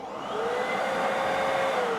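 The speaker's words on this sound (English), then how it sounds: "I'm connecting mine, my vacuum cleaner." Vacuum cleaner hooked up to a wooden-furniture sander, running steadily and loudly with a continuous whine and airy rush, no talking.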